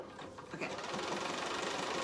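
A sewing machine stitches across a bag pattern in a steady, fast, rhythmic run, close and continuous throughout.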